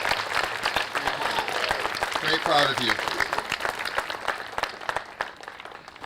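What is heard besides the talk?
crowd applause at flag raising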